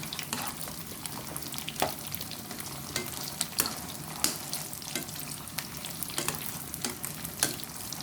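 Meatballs frying in hot oil, Buriram street-style, a steady close crackling sizzle with occasional sharper pops and stirring scrapes, continuous throughout with no voices.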